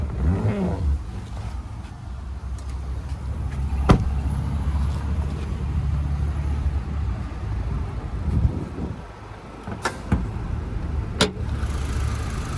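A 2021 Haval Jolion Lux idles steadily under an open bonnet, a low even engine hum close by, broken by a few sharp clicks and knocks.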